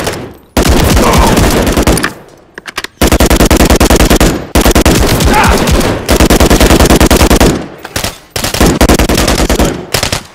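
Call of Duty video game combat: long, loud bursts of automatic gunfire roll on back to back with only brief gaps between them.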